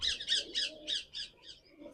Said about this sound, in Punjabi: ਦੇਖੋ ਬਈ ਆ ਗੂੜਾ ਰੱਤਾ ਤੇ ਕਾਲੀ ਚੀਨੀ ਬਈ ਦੇਖੋ ਕਬੂਤਰ